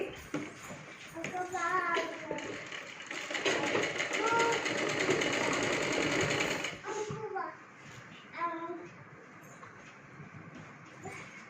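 A sewing machine runs in sustained bursts, stitching lining into a child's lehenga, with a steady whirring drone and stops and restarts, close and clear while a voice speaks over parts of it.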